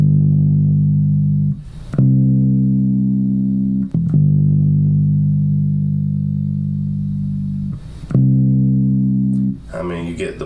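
Bass guitar plays only the root notes of a blues progression: long, steady low notes held for about two seconds each, with short gaps at each change, close and clean, with brief talk at the end.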